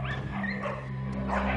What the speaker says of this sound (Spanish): grandes manadas de perros callejeros viven, comen y se pelean en los vertederos de basura